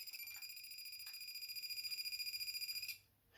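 A Mighty Morphin Power Rangers Dragonzord toy emits a battery-powered electronic sound, a steady high, tinny beeping tone that pulses rapidly and quietly before cutting off near the end.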